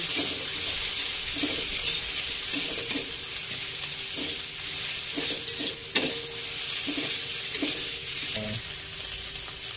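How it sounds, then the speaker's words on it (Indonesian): Bay leaves, lime leaves and crushed galangal, with lemongrass, sauté in a pan for a stir-fried chicken liver and gizzard dish, giving a bright, continuous sizzle broken by regular scraping stirs. "daun salam daun jeruk lengkuas yang sudah digeprek kita tumis sampai bau harum"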